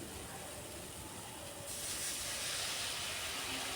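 A small splash of water hits frying spice masala and tomato in a pan, and a steady faint sizzle jumps into a louder, brighter steam hiss partway through.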